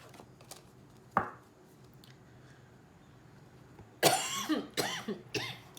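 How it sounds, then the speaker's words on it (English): A sharp single cough, then after a quiet pause a burst of several harsh, close coughs in quick succession. "the coughing is getting worse"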